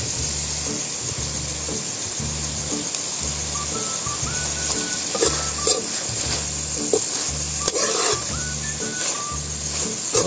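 Green onions sizzle in a pan of oil and butter, a steady close frying hiss running throughout, while a repeating low electronic beat pattern plays alongside and brief clinks sound near the end.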